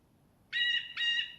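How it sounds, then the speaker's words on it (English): Two loud, bright calls from a nearby bird in the game DayZ, back to back, after a moment of quiet. "loud-ass birds"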